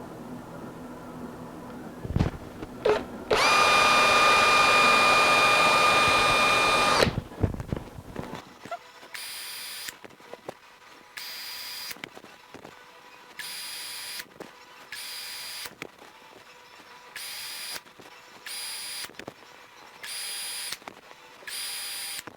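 A power drill bores a shallow hole, about an eighth of an inch, into a 1964 ES-335-style guitar in a workshop, a brief loud whine. It is followed by a quiet stretch of rhythmic short taps and clicks.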